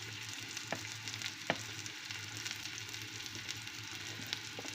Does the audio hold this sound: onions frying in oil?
yes